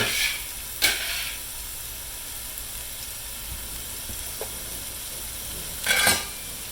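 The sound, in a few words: beef tips sauteing in a pan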